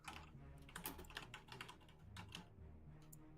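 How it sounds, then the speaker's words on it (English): Rapid typing on a computer keyboard, close and quiet, with irregular bursts of key clicks and short pauses, no speech. "Sorry, I was typing something."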